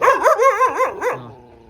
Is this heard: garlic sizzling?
no